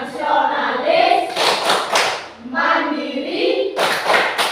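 Schoolchildren in an Indonesian classroom perform the Tepuk PPK clapping routine, with bursts of rhythmic hand claps alternating with chanted voices, loud and close throughout.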